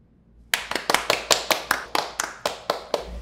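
A few people clap their hands close by after a stretch of near silence, about a dozen sharp, distinct claps in an uneven, slightly sparse rhythm.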